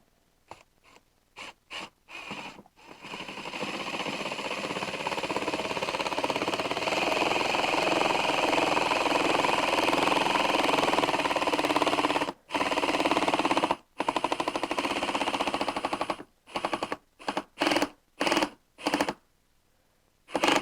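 A power drill drives screws into a clamped cabinet joint, whirring in a long sustained run followed by several short bursts and stops, close and fairly loud, with no talk.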